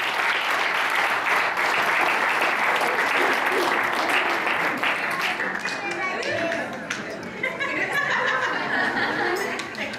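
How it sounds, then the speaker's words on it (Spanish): An audience at a Children's Day church event breaks into sustained applause for a 12-year-old girl about to sing, steady clapping mixed with a few chuckles and murmured voices, tapering slightly near the end. "Un aplauso para Candy, por favor."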